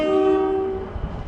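A London Overground train arriving at Clapham Junction from the East London line sounds a loud, steady two-tone horn blast that fades, leaving faint rumbling of the train moving in.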